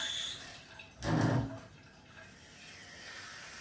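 A short burst of running water from a kitchen tap, gushing for about half a second before dropping to a low background hiss; no talking.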